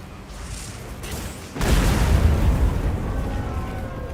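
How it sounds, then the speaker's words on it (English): A barrel bomb goes off in the Monster Hunter video game, a sudden loud blast that breaks in partway through and rolls into a broad, rumbling roar that lingers to the end. "And I could put barrel bombs this time."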